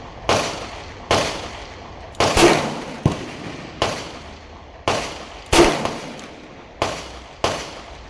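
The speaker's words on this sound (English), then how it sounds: "Now I'm gonna shoot double action." A Colt Kodiak .44 Magnum revolver fires double action in a steady series of about eight sharp, loud shots, each with a short echoing tail, spaced roughly one second apart.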